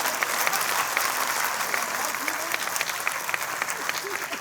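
An audience at a Hindi comedy poetry gathering breaks into sustained applause, a dense, steady roar of clapping with faint voices mixed underneath.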